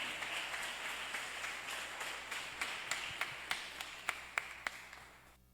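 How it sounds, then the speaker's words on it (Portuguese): Scattered clapping from a church congregation, soft and somewhat distant, with sharper individual claps growing more distinct before trailing off at the end. "Recebe ele com palmas que exalte Jesus."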